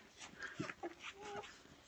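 Newborn puppies whimpering close by, a few thin high whines and squeaks in short broken bursts against quiet background.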